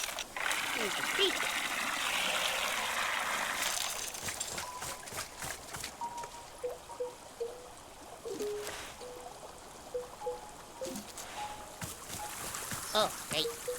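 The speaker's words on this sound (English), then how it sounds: "Here's a creek." Creek water flows in the video game Wanderstop, a steady trickling rush that is loudest over the first four seconds, then thins into a softer babble beneath scattered chirps and a voice.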